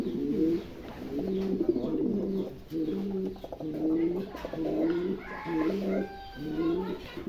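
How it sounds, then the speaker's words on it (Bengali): Nasal tumbler pigeons coo repeatedly in low, rolling phrases, close by, with a steady murmur of background noise and a few faint higher chirps. "এখানে একজোড়া নাসাল টামলার আছে, খুবই চমৎকার, একদম নতুন 8 খিল 9 খিলের কবুতর"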